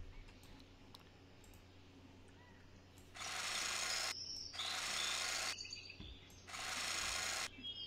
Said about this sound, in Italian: Seleziona un trapano e pratica dei fori.